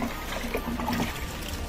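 Dirty cold water being poured for washing clothes: a continuous trickling, splashing flow that stays fairly loud and even throughout.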